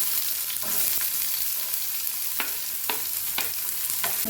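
Onions fry in a pan with a steady close sizzle, broken by a few sharp scraping clicks of stirring.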